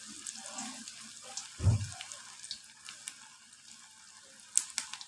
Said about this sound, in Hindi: मैं इसको चेक करती हूँ, एक पकौड़ा डाल के कि